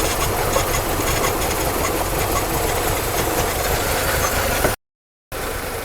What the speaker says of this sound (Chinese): 引擎在吸水的声音，